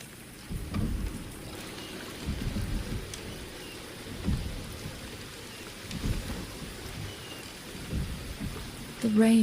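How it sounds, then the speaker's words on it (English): Rain with low rolling thunder rumbles in the Wuthering Waves video game, several deep booms swelling and fading over a steady patter of rain, with a brief tonal sound at the very end. "The rain is subsiding,"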